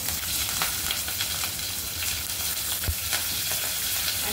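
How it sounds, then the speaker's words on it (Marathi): Mustard seeds and curry leaves sizzle steadily in hot oil for a dish of potato and tea-leaf bhaji, a dense continuous crackle with a few sharper pops, close and loud with no voices. "1 चमचा मोहरी टाकूया, थोडासा कढीपत्ता टाकूया"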